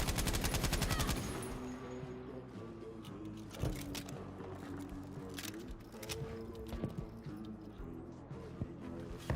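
Rapid gunfire from a bipod-mounted gun in a Battlefield video game: a dense, fast burst at the start, then scattered heavier shots and background battle noise, loud and continuous.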